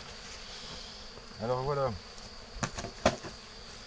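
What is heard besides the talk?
honey bees buzzing in a Spanish Layens hive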